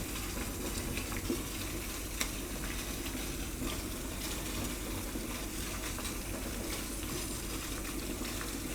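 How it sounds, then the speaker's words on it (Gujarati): Bread slices toasting on a hot griddle (tava) for Gujarati bread mini pizzas give off a steady, even sizzle that runs unbroken throughout, with a few faint clicks. "તો બ્રેડ આપણે આમાં આ રીતની શેકી લેવાની છે"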